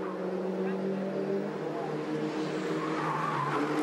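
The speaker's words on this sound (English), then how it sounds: "I hear the tyres protesting." MINI Challenge race cars at the Australian Grand Prix squeal their tyres under sustained engine drone, a continuous loud screech from the circuit with commentators talking over it.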